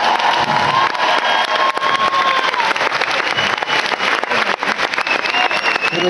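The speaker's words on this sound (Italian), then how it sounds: "vi chiederei un applauso per prendere respiro" Concert audience at a show for Radio Onda d'Urto 2017 breaks into dense, sustained applause with some cheering, loud and continuous throughout.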